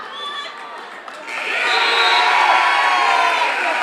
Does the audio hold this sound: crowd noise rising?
yes